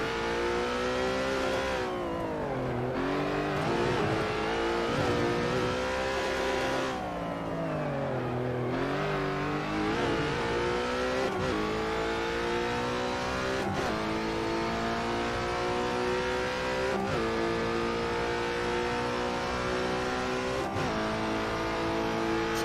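Peugeot 407 WTCC touring car engine in a sim racing game, held at full throttle for a long stretch, loud and close with steady harmonic engine tones that dip and climb through gear changes, alone without talk.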